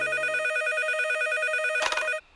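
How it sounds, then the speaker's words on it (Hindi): A telephone in a Hindi-dubbed Boonie Bears cartoon rings with a steady electronic trill, loud and close, followed by a brief click before it cuts off. "हेलो, आपने लाखा को फोन किया?"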